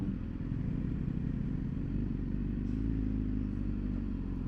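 A loud motorcycle engine runs steadily close by with a deep, throbbing rumble and a slight rise in revs partway through, with no talking.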